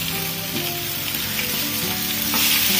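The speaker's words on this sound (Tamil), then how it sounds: "எல்லாம் ஒண்ணா வதக்குறது தான்" Dried red chillies, garlic and curry leaves sautéing in hot oil, a dense, loud, continuous frying hiss close up, swelling slightly toward the end.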